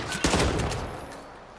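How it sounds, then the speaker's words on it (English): Rapid gunfire in Hitman, fired near an ice cream shop: a quick cluster of sharp cracking shots that peaks early, then fades into a decaying tail. "I'm getting shot with bullets!"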